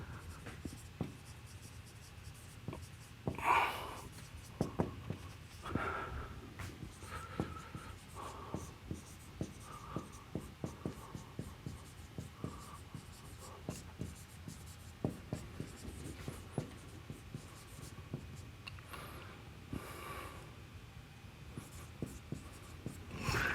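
Chalk or pen tapping and scratching as a differential equation is written out by hand, faint close strokes in irregular bursts over about twenty seconds in a quiet room.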